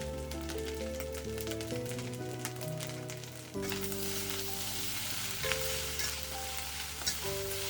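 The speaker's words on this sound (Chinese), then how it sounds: "加入菜茎，翻炒一下。" Vegetable stems stir-fried in a hot wok with flat kway teow rice noodles and dark sweet sauce, a steady close sizzle with scraping stir strokes, running under background music throughout.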